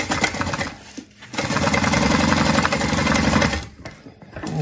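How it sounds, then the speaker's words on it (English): A sewing machine stitches darts on a fabric bag, first in a short run, then in a longer steady whir of rapid needle strokes that stops near the end. "So now we have those darts sewn up."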